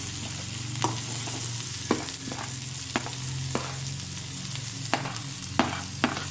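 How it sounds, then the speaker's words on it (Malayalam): Steady, loud sizzling of onions frying in a hot pan, with occasional sharp clicks and scrapes of stirring throughout. "ചട്ടിയൊക്കെ അടുപ്പത്ത് വെച്ചാൽ ചൂടായിട്ടുണ്ട് അതിലേക്ക് ചേർക്കാം ആദ്യം നമുക്ക് ഉള്ളി ചേർക്കാം"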